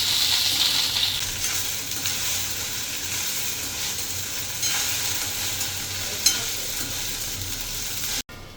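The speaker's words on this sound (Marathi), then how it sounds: "भेंडी 1-2 मिनटं तेलामध्ये फ्राय करून घ्यायची" Sliced okra fries in hot oil in a pan, a steady loud sizzle with occasional stirring scrapes throughout, ending with a brief pause and a clink.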